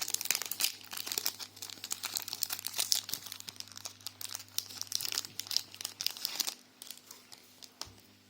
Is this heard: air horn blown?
no